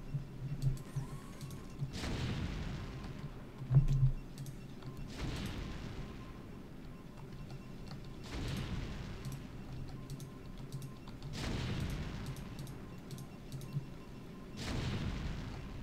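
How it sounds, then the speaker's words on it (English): A single siege tank in StarCraft shells a distant assimilator, each hit landing as a deep, heavy boom roughly every three seconds over a low, steady game background. "So this single siege tank, despite being quite a screenful away, is just barely able to hit this assimilator from that position."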